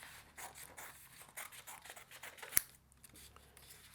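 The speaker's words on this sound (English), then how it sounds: "So I'll just cut a quick piece of this to do that with." Scissors snip through a small piece of card in close, soft rustling strokes, ending in one sharp, distinct cut.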